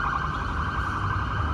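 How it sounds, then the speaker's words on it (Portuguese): An ambulance siren sounds in the background near a drifting track, a steady, continuous wailing tone held at moderate loudness over low rumbling noise, with no one talking. "passou uma ambulância no fundo, velho"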